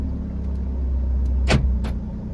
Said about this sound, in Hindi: अब आपको आवाज आ रही होगी क्योंकि अब गाड़ी स्टार्ट हुई है